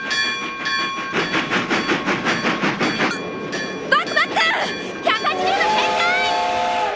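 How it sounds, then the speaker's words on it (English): A train rumbles closer in the One Piece anime, its wheels clacking in a steady rhythm that grows louder, followed by a burst of bright whistle-like tones and a rising mechanical drone at the end. "as what I'm guessing is a train is heading towards them"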